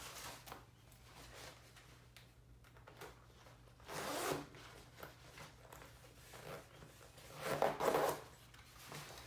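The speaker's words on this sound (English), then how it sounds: "Let me zip it up again." A zipper on a homemade Captain America cosplay vest is pulled up, giving raspy zipping strokes, including two louder pulls near the middle and the end, over a steady low background hum with no talking.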